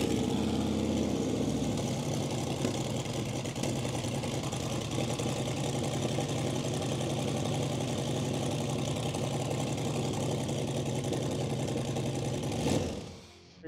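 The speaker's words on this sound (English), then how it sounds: "get this engine running" A car engine, just restarted after installing billet injector spacers, idles continuously at a constant rumble for several seconds before cutting off near the end.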